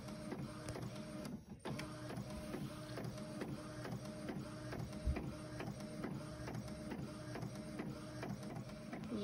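A home printer printing cards, its mechanism cycling steadily with rhythmic clicks and a continuous whirring hum, close and moderately loud throughout, with no talking.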